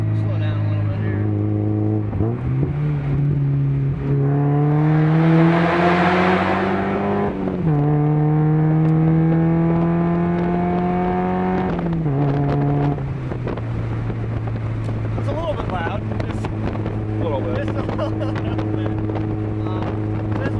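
A 1994 Mazda Miata M Edition cruising on a highway, loud steady engine drone that rises and drops with gear changes, with a roaring rush of wind and road noise inside the cabin while a person talks.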